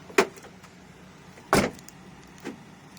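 A Volkswagen Touareg responds to its key with short mechanical thunks from the door locks, a sharp one at the start, a louder one after about a second and a half, and a fainter one near the end, heard close and alone.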